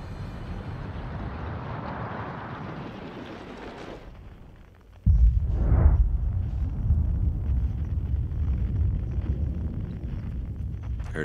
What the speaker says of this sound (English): Heard a huge explosion.